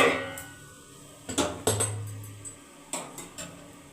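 Metal pot lid set onto a pan while cooking drumstick-leaf greens with salt and potatoes, a few sharp clanks and clinks of metal on metal close by, then a short rattle as it settles.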